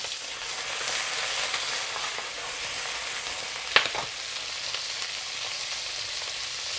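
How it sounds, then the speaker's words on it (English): Prawns pan-frying in a pan for a spicy garlic prawn dish, giving a steady close sizzle throughout with one brief sharp clack partway through, as if from turning them. "We are pan frying the prawns first before putting in all the rest of the ingredients"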